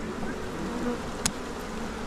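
A steady, dense buzzing of a swarm of honey bees nearby, continuous throughout, with one brief sharp click partway through.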